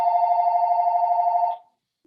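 Telephone bell rings in one steady, loud, continuous burst of about a second and a half during a subcommittee meeting, then cuts off into silence.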